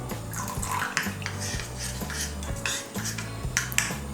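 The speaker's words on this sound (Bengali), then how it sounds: "এর মধ্যে আমি সামান্য একটু জল দেব।" A little water poured into a bowl of cornflour for an egg chilli sauce, a soft steady trickle with light clinks of a spoon against the dish, close and fairly quiet.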